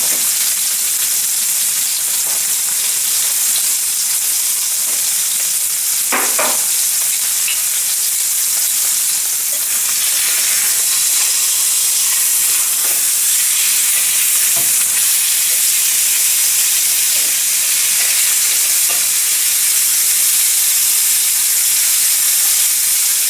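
Filet mignon sears in butter in a pan, giving a loud, continuous sizzle for a long stretch, with a few faint clinks of stirring and no voices.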